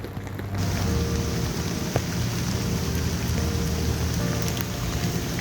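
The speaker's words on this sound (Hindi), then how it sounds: "बारिश अभी तक रुकी नहीं है" Steady rain pours down outdoors at a Saraswati Puja celebration on a Delhi University campus, a dense continuous hiss of drops hitting surfaces, even and fairly loud throughout, with a faint distant rumble and no talk.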